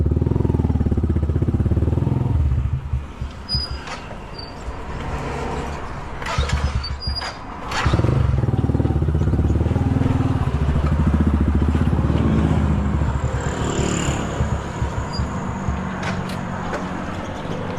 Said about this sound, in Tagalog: may init na yung makina ni Mia labas na tayo